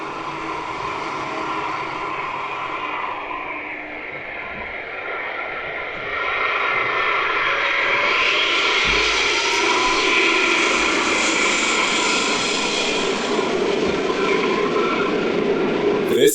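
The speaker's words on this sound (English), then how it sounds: "This Airbus A380 aborting its landing attempt after touching down too late." Airbus A380 going around after an aborted landing, its engines building into a loud, broad jet roar that swells past the midpoint and holds steady, with faint speech beneath.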